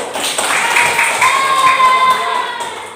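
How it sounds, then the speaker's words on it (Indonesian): Classroom audience applauding a student group, a steady continuous wash of clapping with some crowd noise, moderately loud and sustained throughout. "Tepuk tangan untuk kelompok satu"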